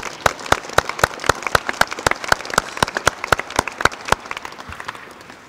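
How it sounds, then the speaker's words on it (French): Audience applause for a guest at a contemporary art talk about a Huang Yong Ping Monumenta installation; a steady burst of crisp, close hand claps from a sizeable crowd that fades toward the end, with no speech. "et on t'applaudit"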